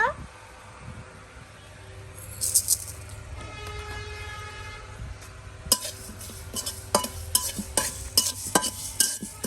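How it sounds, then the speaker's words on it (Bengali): Panch phoron whole spices frying in hot oil in a home kitchen, a steady low sizzle with scattered crackles and stirring scrapes that grow busier and louder in the second half. "এখন আমি পাঁচ ফোড়ন দিয়ে দিব"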